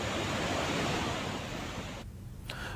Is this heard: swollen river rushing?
yes